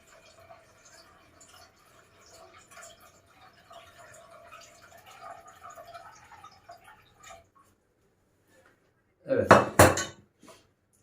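Dishes and utensils clink quietly at first, then a sudden loud burst of clattering and splashing as a metal pot of chicken soup is moved in water.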